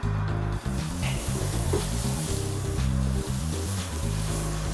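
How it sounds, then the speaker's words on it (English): A veal chop seasoned with olive oil hisses and sizzles on a grill over direct heat, a loud steady crackling spray with a low rumbling hum beneath. "We'll just put it on the grill."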